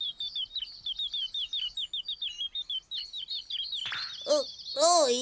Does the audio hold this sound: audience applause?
no